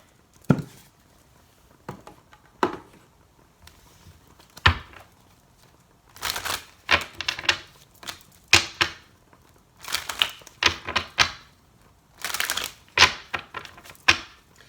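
Tarot cards being shuffled by hand, quick crisp riffling bursts and light slaps in repeated clusters, close and fairly quiet, with no talking.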